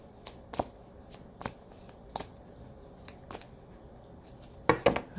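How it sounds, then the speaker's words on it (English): Tarot cards being shuffled at close range: several short, crisp riffling bursts spaced about a second apart, with a louder double shuffle at the end, and no talking. "I heard another shuffle."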